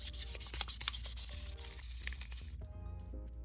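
Close, steady hand sanding of a resin 3D-printed part, with rough scratchy strokes repeating in an uneven rhythm and fading into quieter rubbing near the end.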